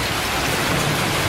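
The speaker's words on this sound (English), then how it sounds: "I'm going to mix it in with some gentle rain." Gentle rain blended into a jackhammer recording gives a soft, steady hiss of falling drops. It sounds like continuous pink noise with no distinct hammering bursts and no voices.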